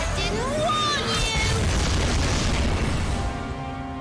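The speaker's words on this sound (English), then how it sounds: "Alright, we're gonna kaboom all." Kaboom All explosion spell cast in the video game Dragon Quest XI, a loud, sustained booming blast with rising magical shimmer, under game music and a voice talking.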